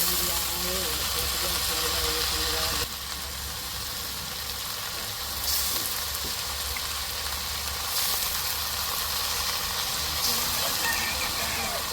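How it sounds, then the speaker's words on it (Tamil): Prawns are added to okra, brinjal, tomato and chili already sautéing in a pan, giving a steady low sizzle under a constant background hum throughout. "இப்போ ராளையும் சேர்த்து நம்ம இதோட வதக்கிக்கணும்"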